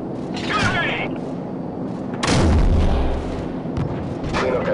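A 25 millimeter gunship cannon fires in Call of Duty 4: Modern Warfare, with loud, booming bursts that swell midway while radio voices talk over the gunfire.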